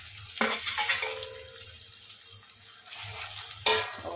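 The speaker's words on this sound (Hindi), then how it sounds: "ये जो हमने आलू और अरवी ली थी उसको इसके अंदर डाल देंगे" Potato and taro pieces tipped into a hot pan, giving a loud burst of sizzling frying that carries on as a steady hiss, with a second clatter and sizzle surge near the end, close up.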